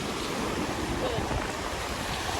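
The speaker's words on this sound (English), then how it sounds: "waves are getting bigger" Ocean waves break on a beach in a steady, dense wash of surf, with wind buffeting the microphone throughout.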